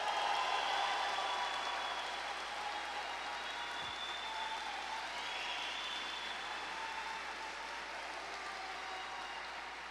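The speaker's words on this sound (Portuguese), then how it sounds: "Pode aplaudir." A Catholic congregation applauds, an even, sustained wash of many hands clapping heard from some distance, slowly tapering off.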